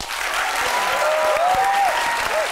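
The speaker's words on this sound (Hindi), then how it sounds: "सर लो एक बार और फिर दिल से तालियां" Studio audience applause on a Pakistani television talk show, a dense, steady wash of clapping from a live crowd, fairly close and sustained throughout, with faint tonal whoops above it.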